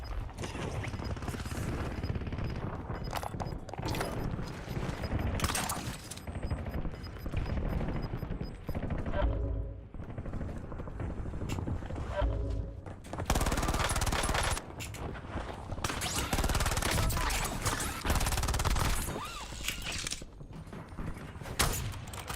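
Dense, continuous Warzone gunfire with rapid automatic bursts, impacts and crashes crowding a loud, busy battle mix for the whole stretch.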